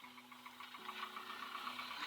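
Engine of a small training aircraft idles steadily with the throttle pulled back, a low, even drone with a faint rattle, heard close and without speech.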